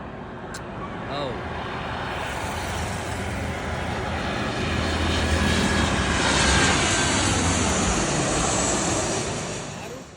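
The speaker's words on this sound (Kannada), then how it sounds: "ಇವಾಗ ಇನ್ನೊಂದು ಫ್ಲೈಟ್ ಬರ್ತಾ ಇದೆ ಲ್ಯಾಂಡಿಂಗಿಗೆ" An airliner comes in to land at Cochin International Airport with a broad jet roar that swells to a peak near the middle and then eases off. Voices can be heard faintly under the engine noise.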